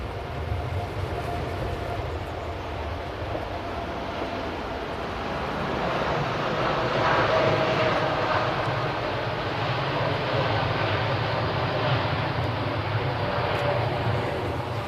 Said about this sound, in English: So we have this Dreamliner now off to Montego Bay.